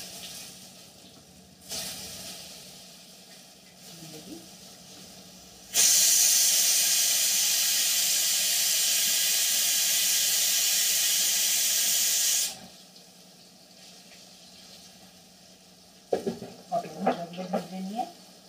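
Pointed gourds (potol) drop into hot oil in a pan, releasing a loud, steady sizzle and hiss that lasts several seconds before cutting off, followed by quieter stirring and scraping.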